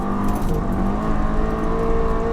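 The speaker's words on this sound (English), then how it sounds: "let's try a second gear pull now, see how it holds up. Traction control fully off." Stage 2 Seat Leon Cupra, a 402 bhp tune, pulls hard in second gear with traction control off. The engine note stays loud and close, a steady rising roar with no voices over it.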